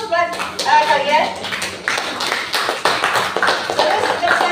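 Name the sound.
children clapping hands in classroom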